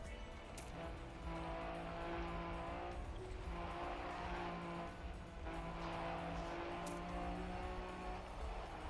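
A rally car in the Trackmania racing game driving on dirt, a continuous engine drone with shifting pitch, tire hiss and occasional sharp squeals, loud and unbroken throughout.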